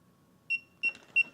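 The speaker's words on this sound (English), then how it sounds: "now it's now in bind mode. You'll hear it beeping." DJI Goggles 3 in bind mode emit a run of three short, bright electronic beeps at a steady pace, close and clear over near silence.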